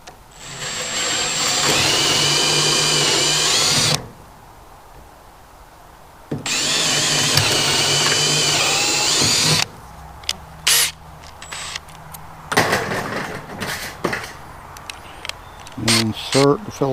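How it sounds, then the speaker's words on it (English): A power drill boring a pilot hole while a top bracket is mounted on a chicken tractor wheel kit, two sustained loud whining runs with a short pause between, followed by quieter clicks and handling noises. "Drill a pilot hole."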